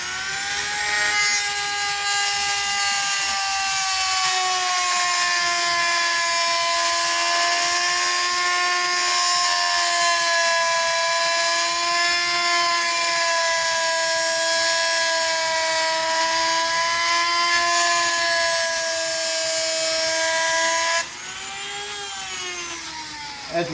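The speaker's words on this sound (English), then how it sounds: "as you're grinding it, you let the bearing spin, and you're just trying to clean it up" A Dremel rotary tool grinds metal on a spinning live axle bearing for a Tillotson 212cc setup, giving a loud, continuous high-pitched whine with steady tone, close up, dropping slightly in pitch near the end.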